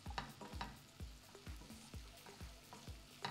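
Vegetables frying in a pan while being stirred, a soft steady sizzle broken by regular scraping strokes about twice a second, fairly quiet and close.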